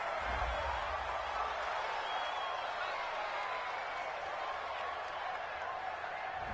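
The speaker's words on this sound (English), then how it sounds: "This home crowd, they're happy with that call." A stadium home crowd in a PS4 football video game roars and applauds after a call, a steady broad wash of cheering that holds at one level throughout.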